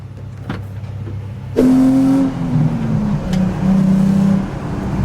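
A Nissan S14 car engine swapped to a 1JZ, with a tube front, suddenly rises from a low idle to a loud, throaty acceleration, its pitch dipping and climbing as it pulls along the street.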